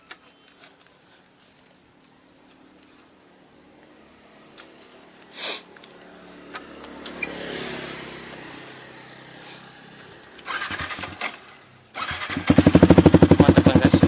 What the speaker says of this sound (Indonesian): untuk knalpot sendiri ini kita tes suaranya